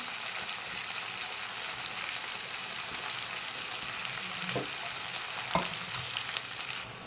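Potato pieces, green chillies and tomato pieces frying in a pan for vegetable biryani, giving a dense, even sizzle throughout, with a couple of brief clinks of stirring near the end.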